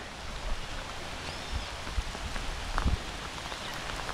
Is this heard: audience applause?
no